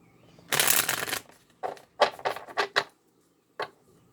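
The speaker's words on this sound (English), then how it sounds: "Let's go ahead and get a couple cards from the Divine Feminine, Divine Mother Kuan Yin Oracle" Kuan Yin oracle cards shuffled by hand: a dense riffle burst followed by several short flicks and a final snap, close and moderately quiet, with no voice.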